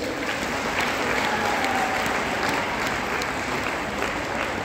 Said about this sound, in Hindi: जोरदार तालियां सबके लिए